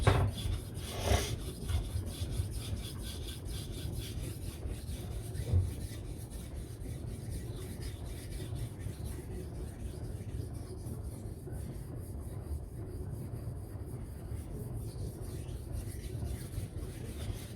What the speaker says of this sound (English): I'm using less pressure. A kilo of force, I think that's around 2 pounds, just to get the stone to cut.